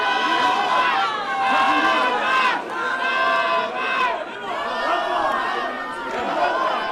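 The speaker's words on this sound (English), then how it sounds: "Crowd showing their support for the King of LA, Omar Trinidad, here inside the Chumash Casino Resort" A boxing crowd inside the Chumash Casino Resort chants and cheers in rising waves for fighter Omar Trinidad, rhythmic crowd voices swelling and dipping across several seconds.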